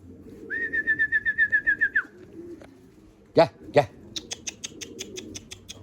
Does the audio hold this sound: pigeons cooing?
yes